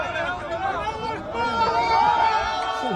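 Crowd of people cheering and shouting as they lift a rocket shell, many overlapping raised voices blending into a continuous nearby clamor.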